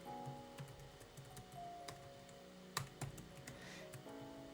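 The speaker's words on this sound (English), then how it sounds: "I didn't realize I was going to be typing a bunch of paragraphs here" Typing on a computer keyboard, a quiet irregular patter of key clicks with a few sharper taps, close and steady over a faint background hum, no talk.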